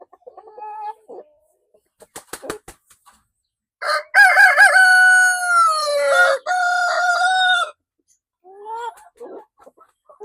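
Lavender Orpington backyard chickens in a breeding pen: a few short clucks and clicks, then a loud, close rooster crow stretching over several seconds, followed by softer clucking.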